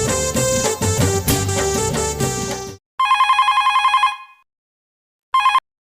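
A telephone ringtone melody plays loudly, then gives way to a bright electronic ring in repeated bursts, falling silent and briefly resuming.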